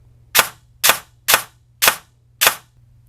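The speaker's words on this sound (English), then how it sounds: "Okay, got the Solink motor put in. So now let's test semi-auto. 5 shots." An airsoft gun fitted with a Solink programmable brushless motor fires five semi-auto shots, each a sharp, loud crack about half a second apart in a steady rhythm, over a low constant hum, with no talking.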